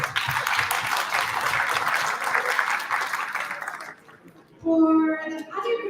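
A big round of applause for a presenting group at a youth summit in Istanbul, loud sustained clapping from a large crowd that fades out before a speaker's voice takes over.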